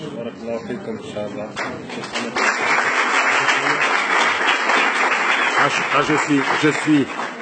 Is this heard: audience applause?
yes